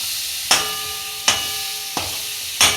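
Ground masala paste with red chillies frying in a pan for mavinakai chitranna, heard as four short, sharp sizzling bursts at a steady interval as the paste is stirred, with a quiet gap between each burst and no talking.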